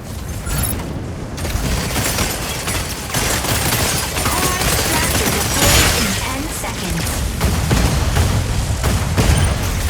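A mech's Gatling cannons in the game Mecha BREAK fire in a dense, sustained rattle that runs throughout, layered with booms and mechanical clatter, loud and continuous, with a voice speaking over the action.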